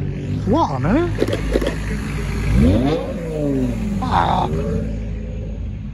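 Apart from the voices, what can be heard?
Manti Racing Porsche 911 GT3 992 driving away from car show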